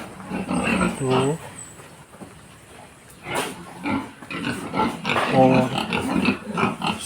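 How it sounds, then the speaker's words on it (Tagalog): Pigs on a farm grunt and squeal up close in short, irregular bursts, mixed with a person talking nearby. "Dito pa yung baboy namin."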